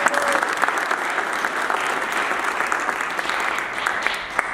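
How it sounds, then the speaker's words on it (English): An audience at a New York City Council event breaks into steady, dense applause, many hands clapping together at an even level for several seconds, with some crowd murmur underneath. "Let's give her a round of applause."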